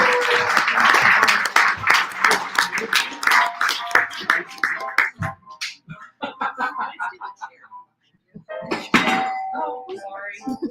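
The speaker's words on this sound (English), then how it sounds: "Eleanor Goldfield, give her a big round of applause." An audience at a stand-up comedy benefit event claps and applauds, loud and dense for the first few seconds then thinning into scattered claps, with voices speaking and laughing around it.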